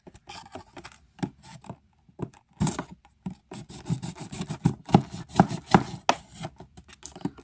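A knife cuts and scrapes through Ness Amiibo plastic packaging in short, irregular bursts of close scratching and slicing, with pauses between the strokes.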